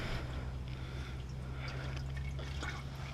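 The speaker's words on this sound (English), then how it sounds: "drains into the oil pan." Engine oil from a 2007 Mustang GT drains into an oil pan as a steady, soft liquid trickle over a low, constant hum. Small drips and splashes sound close, with no voices.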